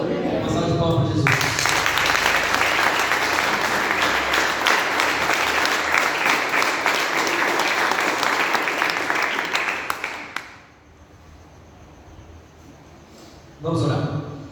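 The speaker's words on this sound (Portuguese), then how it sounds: "Uma salva de palmas para Jesus." A church congregation claps in sustained loud applause for Jesus for about ten seconds before it fades, then a voice speaks briefly at the end.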